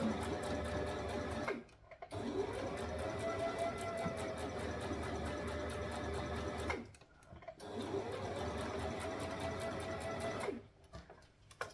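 Sewing machine stitching a dress, a fast rhythmic mechanical whir running in three long bursts separated by brief stops, close and steady.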